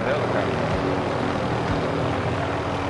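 A helicopter in a video game, apparently the Call of Duty Warzone battle royale mode, drones steadily with a continuous rotor and engine roar throughout, loud and unbroken.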